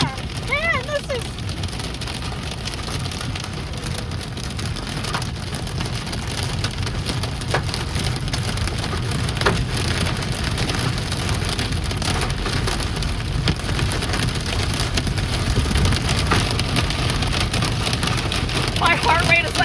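A hailstorm and heavy rain pound surfaces in a dense, continuous roar with scattered sharper impacts, steady and close throughout, with no clear talk.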